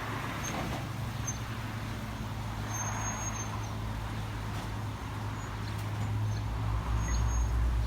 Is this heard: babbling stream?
no